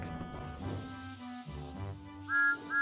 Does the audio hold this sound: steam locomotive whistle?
yes